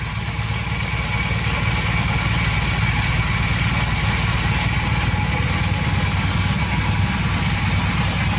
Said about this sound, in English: So far so good. The engine sounds really good.